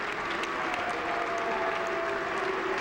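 Illinois Wesleyan basketball fans give a steady, sustained ovation in a college gym, dense clapping from a large crowd with a faint mock cheer mixed in, heard at a distance.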